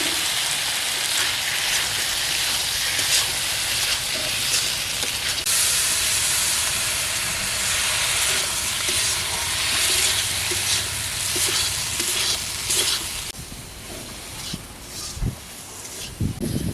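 Poppy seed paste sizzles with pumpkin and chilli powder in a pan, a continuous loud hissing fry with crackling pops that softens toward the end.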